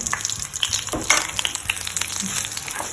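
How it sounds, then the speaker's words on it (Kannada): Curry leaves fry in hot oil for a Tulu-style dry prawn chutney, giving a busy, crackling sizzle with scattered sharp pops close by and no talking. "ಕರಿಬೇವು ಫ್ರೈ ಆಗೋದು"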